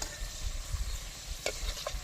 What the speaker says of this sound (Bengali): উল্টে পাল্টে ভেজে নিতে হবে এগুলো